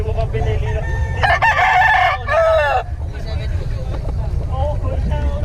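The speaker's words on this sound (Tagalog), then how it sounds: "Pili ka pa sa manok, hindi mo pa pinili na." A rooster crows once, loud and close, over steady low rumble and background chatter from people nearby at a gamefowl sale.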